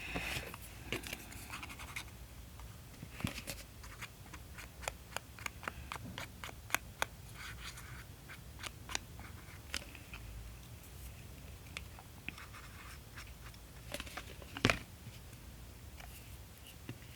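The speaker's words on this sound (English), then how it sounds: "it's a little bit off, so I'll just trim the excess." Scissors trim excess paper from a handmade Sunbonnet Sue paper doll: a series of crisp, close snips and clicks, irregularly spaced over quiet scratchy handling noise, with no speech.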